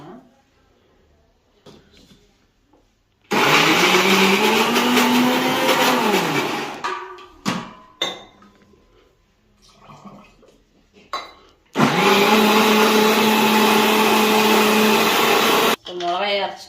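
Mixer grinder grinding dried red chillies and spices into powder in a home kitchen: two long loud whirring bursts with a rising and falling motor whine, separated by quieter clatter and short spins.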